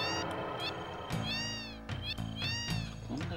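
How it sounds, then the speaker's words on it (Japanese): Several cats meow in Final Fantasy VII, a run of distinct, close meows with rising and falling pitch over a steady game background. "邪魔、この猫。"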